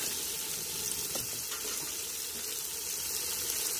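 Sliced onions frying in a pan for village-style chicken biryani, a steady dense hiss and sizzle with no pauses throughout.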